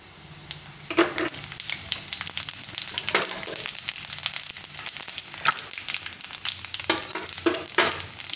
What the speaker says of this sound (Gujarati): તો તેલ આપણું ગરમ થઈ ગયું છે. એમાં પહેલાં રાઈ નાખીશું